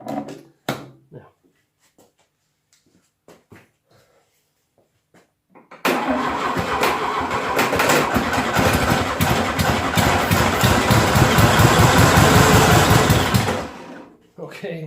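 A 1972 VW Beetle 1200 engine with a sticky carburetor cranks in short bursts, then catches and runs at a loud, steady, rattling idle for several seconds before cutting out, with brief talk near the start.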